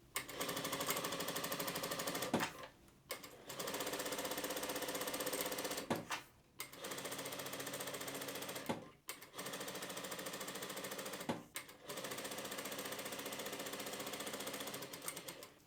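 A sewing machine running a straight seam along a trouser hem with a very large stitch, loud and steady in long continuous bursts broken by brief pauses.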